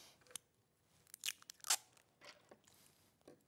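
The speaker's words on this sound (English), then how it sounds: "Oh, I shouldn't use these scissors for this." Scissors snip through quilt fabric at a Christmas quilt sewing demonstration, giving a few quiet, crisp cuts spaced irregularly with soft crunchy edges, alone with no talk.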